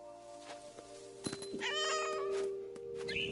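A cat in the video game What Remains of Edith Finch gives one drawn-out, wavering meow mid-clip, clear and fairly close, over quiet game ambience with a few soft thumps.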